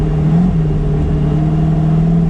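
A twin-turbo 700 hp eight-rotor Mazda RX-7 drones loudly and steadily from close by, holding one sustained tone with a brief rise near the start.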